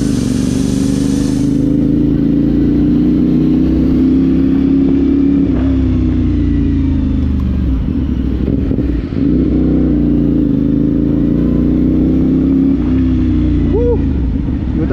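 CF Moto 450-SR motorcycle on a test ride, its engine droning loud and close in a steady tone, swelling and dipping as the revs change.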